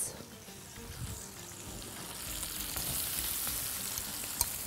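Onions cook in a spoonful of oil in a frying pan for bulgur kibbeh with meat, giving a soft, fairly quiet sizzle that builds slightly, with one sharp tap near the end.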